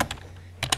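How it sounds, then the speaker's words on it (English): Quick keystrokes on a computer keyboard during a game-programming session, a pair of close clicks at the start and another pair near the end with a quiet gap between, no voices. "Who is doing all the typing?"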